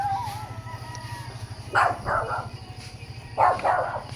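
A dog gives two short bursts of barking, a couple of seconds apart, over a steady low rumbling background.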